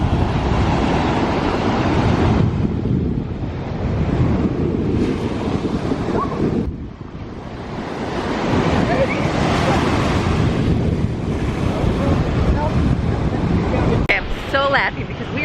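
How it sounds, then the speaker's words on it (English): Powerful ocean waves crash and roll on a black sand beach, a steady loud roar of surf with rising and falling surges, heavily buffeted by wind gusting across the microphone. "The waves are so powerful, and like we're trying to go where they crash down"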